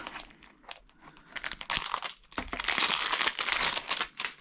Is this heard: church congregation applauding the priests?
no